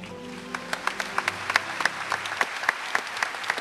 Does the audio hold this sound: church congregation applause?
yes